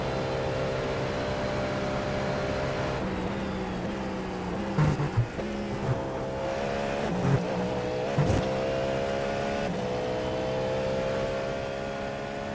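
A Cadillac GTP race car engine in the iRacing video game drones loudly at high revs, shifting pitch as it brakes and downshifts with several sharp blips through a chicane, then climbs again, with no voices.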